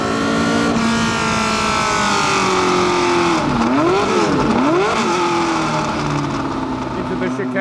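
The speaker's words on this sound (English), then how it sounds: "it's a long time since I drove a Cosworth engine car really in a Formula One" A loud Cosworth-engined 1969 McLaren M9A Formula One car roars continuously up close, its pitch dipping and climbing twice in the middle as it revs through a chicane.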